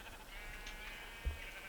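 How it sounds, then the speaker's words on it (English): A single sheep bleats briefly and faintly, with a soft low thump near the end, over a quiet background hum; no one speaks. "That's a sheep."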